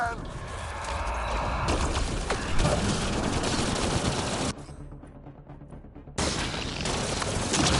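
Gunfire in the Mass Effect Andromeda video game, dense rapid bursts of automatic shots over a loud battle din, dropping out for a moment before the firing resumes.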